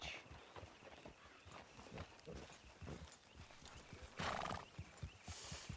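Horse hooves clip-clop in an uneven trotting rhythm in Red Dead Redemption 2, joined by a horse's whinny and snorts, all close and moderately loud with faint ambient background.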